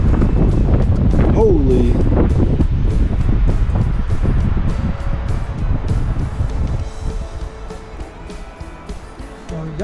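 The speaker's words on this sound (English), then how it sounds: "All of a sudden the wind has showed up." Strong wind blows across a lake, roaring into the microphone as a loud, continuous rush that eases slightly toward the end, while someone speaks and exclaims over it.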